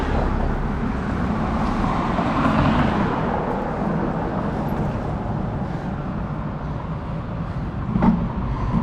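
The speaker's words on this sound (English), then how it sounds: "there's traffic coming and that's not safe." Road traffic on a city street rumbles steadily, a continuous low wash of passing vehicles with a slightly louder swell near the end.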